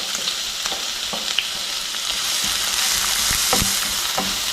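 Finely chopped large onion frying in hot oil, a continuous close sizzle with occasional spoon taps and scrapes against the pan, no talking.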